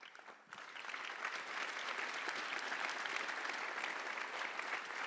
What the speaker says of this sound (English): let me introduce you to big applause